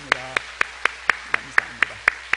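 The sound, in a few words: audience applause for the teachers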